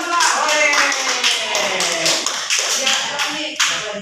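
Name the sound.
class clapping for a group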